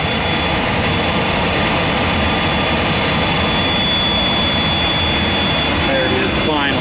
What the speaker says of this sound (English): I'm going to get busy starting number two. All right, start number two.